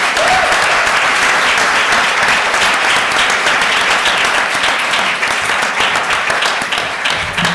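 An audience applauds at the close of an LSE event on the 2024 UK general election, steady full-room clapping that continues unbroken before slowly tapering off.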